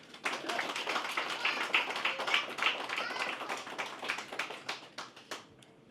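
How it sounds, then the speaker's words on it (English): A roomful of people at an evening event applaud the organizers with a fairly quiet burst of clapping that swells quickly, stays dense for several seconds, then trails off into a few scattered claps. "I just want to give them a thank you and a round of applause."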